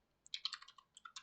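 Typing on a computer keyboard into a browser search bar, a quick quiet burst of a dozen close key clicks in uneven rhythm.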